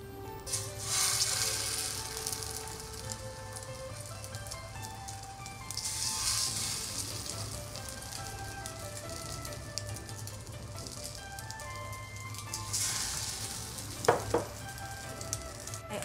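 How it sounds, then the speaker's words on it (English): Chinese New Year cake (nian gao) coated in whisked egg pan frying in hot oil, giving a steady close sizzle that swells in a few louder bursts, with light background music throughout. "When the oil is hot, you can put the Chinese New Year cake to pan fry."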